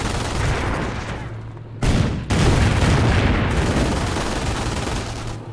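Heavy, continuous gunfire and booming blasts fill a Company of Heroes battle, dense and loud throughout with a sharp surge midway.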